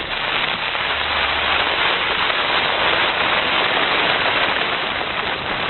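Heavy rain drumming on expedition tents high in the mountains, a dense, constant hiss that stays loud and unbroken throughout, with no one talking.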